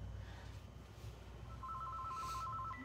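A telephone rings with an incoming call, sounding as a faint, repeated electronic trill in the background under a low hum.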